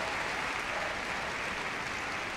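Audience at a Crufts dog activities display clapping in a dense, even wash of applause, steady and fairly distant from start to finish.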